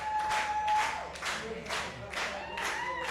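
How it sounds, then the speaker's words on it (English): Audience clapping at a chef cooking competition awards moment, a sustained, fairly loud patter of many hands with rhythmic swells, continuing steadily throughout without talk. "I need you all to start clapping."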